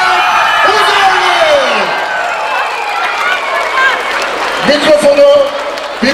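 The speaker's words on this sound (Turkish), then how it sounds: "Kocaman İzmir alkışlarıyla" A crowd at the İzmir gala premiere of the film Annemin Yarası in the Optimum mall cheers, whoops and applauds. The noise is loud and steady, with high shouts rising over it and voices mixed in.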